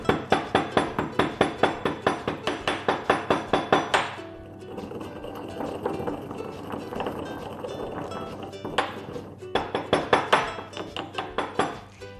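Whole cardamom pods are pounded by hand to grind them for idli batter. Quick, even thuds with faint clinks repeat for several seconds, pause during a softer rustling stretch, then the rhythmic pounding resumes.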